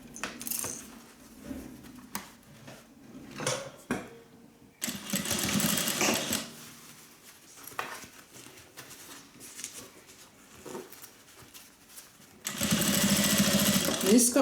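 A sewing machine runs a decorative top stitch down a foam-lined sling bag, buzzing in bursts of varying length, with a voice talking quietly in between.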